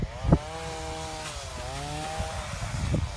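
A chainsaw cutting trees to clear ground runs steadily up close, its engine tone dipping and rising as it bites, with a brief knock near the start.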